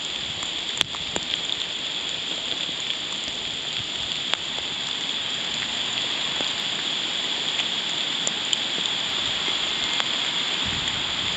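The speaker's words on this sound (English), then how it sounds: "but it's fairly raining now" Steady rain falls around a hiker seated on a wooded slope along the Sligo Way, a continuous close hiss with occasional louder drips landing nearby.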